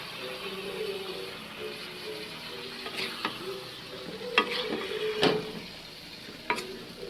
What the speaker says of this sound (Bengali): তরকারিটা আমি খুব ভালো করে এখন পুরোটা মশলার সাথে মিশিয়ে রান্নাটা করে নিব